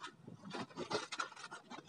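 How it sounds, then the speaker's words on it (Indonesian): Sandpaper rasps by hand against a thin part in short, uneven back-and-forth strokes, close and fairly quiet, with no talk over it. "kalian amplas gini"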